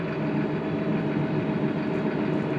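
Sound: tractor engine running

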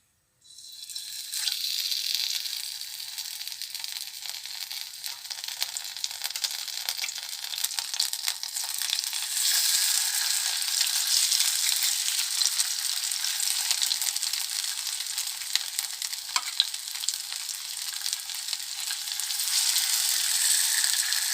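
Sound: fish pieces frying in hot oil for fish 65

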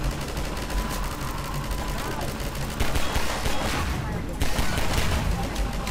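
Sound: gunfire from the video game Half-Life 2: Episode Two

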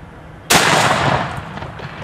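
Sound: 1878 cowboy shotgun firing turkey loads at targets

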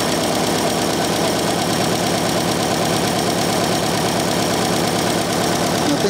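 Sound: old motorcycle engine idling during carburetor mixture adjustment

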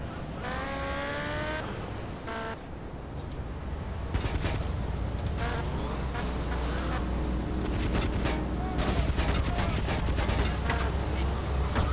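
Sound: SMG gunfire in GTA Liberty City Stories video game

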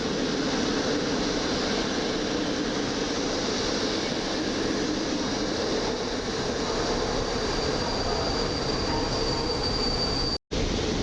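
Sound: electric locomotive hauling passenger train

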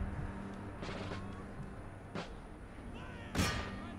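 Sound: musket volley fire in Empire: Total War video game

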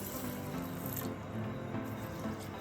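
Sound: washing soaked rice in water

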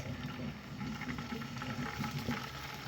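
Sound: small mola fish frying in hot oil in a pan

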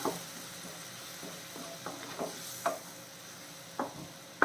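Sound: stirring tomatoes and shallots frying in a pan

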